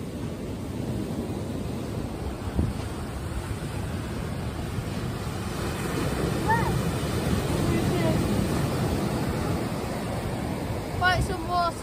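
Rough surf at Hornsea churns and crashes steadily against sea barriers, a broad roaring wash of water with wind buffeting the microphone throughout.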